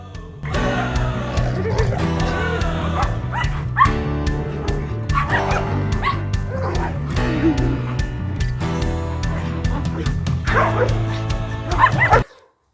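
Several dogs bark, yip and whimper excitedly nearby, overlapping in a noisy, continuous burst of agitated sounds.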